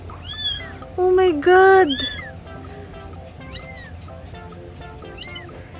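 A pet cat meows several times in a home setting, the loudest cries rising and falling near the middle, with a person speaking briefly over quieter background sounds.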